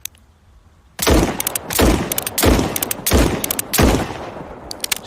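Five long bursts of automatic fire from a gun in the game SCP 5k, each about half a second long with short gaps between them, loud and close, following a second of near silence at the start.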